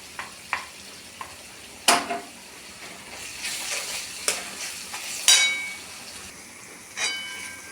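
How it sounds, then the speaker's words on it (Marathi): Fried ginger, garlic and chili paste sizzles in a pan for a village-style prawn dish, a soft frying hiss broken by sharp, irregular spatula scrapes and clanks as it is stirred. "आता आपण आलं लसूण मिरची तळलेली आहे ती टाकून घेऊ"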